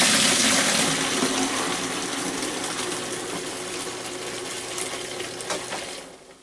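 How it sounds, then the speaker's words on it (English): A bilge pump on a boat pushes diesel-contaminated bilge water into a bucket, giving a continuous close hiss and wash of splashing liquid over a steady pump hum that fades out at the end. "I'm pumping the bilge into these buckets, and it's got diesel fuel in it"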